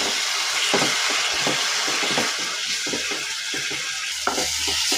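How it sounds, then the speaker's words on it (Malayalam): Masala and yogurt are stirred in a frying pan during beef biryani cooking, with a constant close sizzle and hiss and soft, irregular scraping of the spoon. "ഇളക്കി കൊടുക്കാം"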